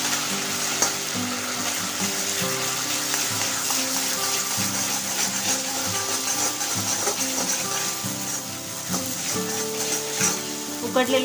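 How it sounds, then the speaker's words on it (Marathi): Grated boiled potato is stirred in a frying pan for a sweet fasting shira, a steady close sizzle and fry with repeated scraping strokes of the spoon throughout. "हा बटाटा आपण यामध्ये व्यवस्थित मिक्स करून घ्यायचा।"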